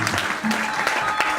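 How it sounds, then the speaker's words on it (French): A church congregation applauds a visiting preacher, a dense wash of hand claps under a brief voice, steady and close throughout. "Can we put our hands together for the man of God?"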